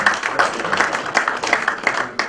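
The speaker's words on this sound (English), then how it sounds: "Please, a round of applause for him." Audience applause at a book launch event, a dense crowd of clapping hands sustained steadily throughout with slight swells, fairly close and with no one speaking over it.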